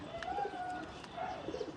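Pigeons on a rooftop loft coo in soft, repeated low calls, a few overlapping phrases at close range over light background noise.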